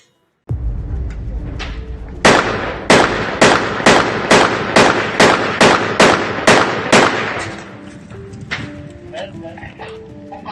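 A rapid series of about a dozen loud, sharp gunshots in steady rhythm, followed by a few scattered, fainter shots and background noise, as forces exchange fire around a trapped Russian tank during fighting.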